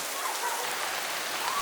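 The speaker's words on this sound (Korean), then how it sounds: "하지만 발리 첫날 바로 비가 오기 시작했습니다." Rain falling in Bali, a dense, even hiss of drops on surfaces, steady and close for a brief moment.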